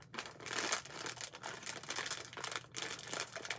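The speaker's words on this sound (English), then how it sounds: "They come in an actual plastic bag." A plastic snack packaging bag is handled close up, giving dense continuous crinkling and crackling with brief pauses, loud and alone without any talk.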